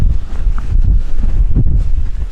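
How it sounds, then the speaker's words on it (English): Strong wind gusts buffet an MSR Tindheim 2 tent during a 40mph+ wind storm, a loud, continuous low roaring rumble with flapping surges, close to the microphone and without speech. "really strong gusts, and it's absolutely fine"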